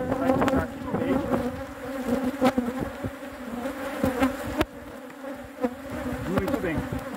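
Honeybees buzzing around an open hive while a weak colony is inspected and reinforced: a steady, close, droning hum with shifting pitch as individual bees pass near, with brief soft handling knocks in the background.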